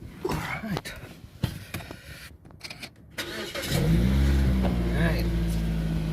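A car used for an electrician's daily work commute starts up partway through and settles into a steady, close engine idle with slight rises in pitch as it warms, following a stretch of talking and handling noises.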